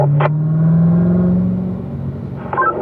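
Car lapping the Spring Mountain race track, its engine droning loud and steady close by as the pitch slowly rises and then eases off, with short bursts of tyre or wind noise.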